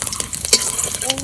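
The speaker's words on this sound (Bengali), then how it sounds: "ফোড়ন দেওয়ার জন্য একটু তেল দিয়ে নেবো, তেজপাতা, শুকনো লঙ্কা আর গোটা জিরে" Bay leaf, dry red chili and whole cumin tempering in hot oil in a pan, a brief loud crackling sizzle with a stirring scrape, close up and without talk.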